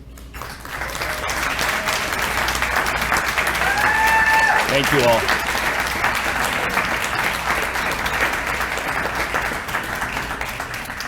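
City staff, standing at a State of the City presentation, get a sustained round of applause from a large hall audience that swells and holds for several seconds, with a brief spoken thanks over it.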